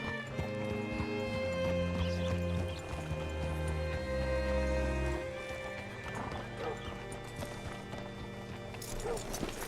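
Steady horse hooves clip-clop close by in Red Dead Redemption 2, with a brief whinny, over a continuous bed of game background music and ambience.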